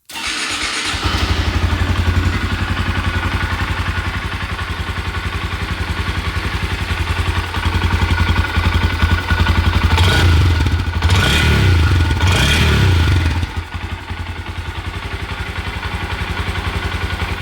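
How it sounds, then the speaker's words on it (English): A 2025 Honda Grom idles steadily through its stock factory exhaust with a low, fairly muted note, then revs up in a few short bursts before settling back to idle. "let's get a clip of what it sounds like from the factory with his nice looking but very quiet sounding exhaust"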